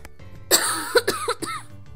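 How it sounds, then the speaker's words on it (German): A single person gives a close, sharp cough burst followed by a few shorter throaty coughs and a throat-clearing, heard alone without other talk. "Um meinen Husten rauszuschneiden."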